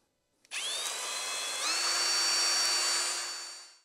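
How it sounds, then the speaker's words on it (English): A power drill whines steadily at high speed after a brief click, spinning a pinewood derby car part to polish its bores, its pitch rising once partway through before it winds down. "I'm going to chuck it up in the drill"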